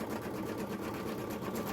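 An embroidery machine stitching a photo design, giving a dense, continuous rapid needle chatter that stays close and steady throughout, with no voices.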